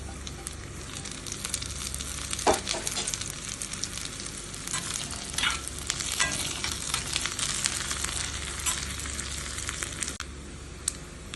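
Shallots, curry leaves and green chilli pieces sizzle steadily in a pan of hot oil for tapioca kappa, a dense continuous crackle with a few sharper pops and stirring scrapes throughout, no voices.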